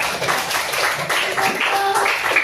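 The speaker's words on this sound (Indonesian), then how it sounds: "Berikan tepuk tangan dulu untuk kelompok 1 dan kelompok 2" A class of students applauds for groups 1 and 2, a dense, uneven patter of clapping mixed with background chatter and voices throughout.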